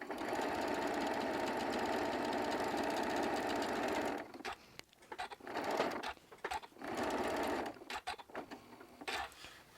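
A sewing machine stitching quilting fabric strips together with a quarter-inch seam, whirring steadily for about four seconds and then running in short stop-start bursts, close and clear, with no talk.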